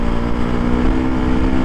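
Motorcycle engine held at high revs, its clutch plates worn, giving a steady loud drone with a strong low hum throughout, no voices.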